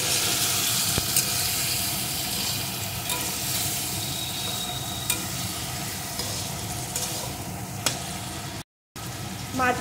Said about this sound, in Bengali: আর এই তেলের ভিতরে আমি ম্যারিনেট করা মাছগুলোকে দিয়ে দেব। মাছগুলো একটু এপিট ওপিট করে ভেজে নেব।